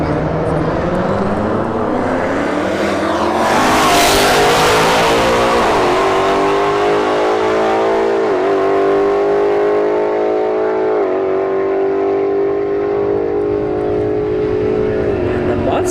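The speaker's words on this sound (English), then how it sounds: "S550 left lane, Stelvio Quadrifoglio in the right lane" A Ford Mustang S550 and an Alfa Romeo Stelvio Quadrifoglio drag race at a motorsports park, engines revving up and climbing through several sharp gear shifts, loud and close, fading slightly toward the end.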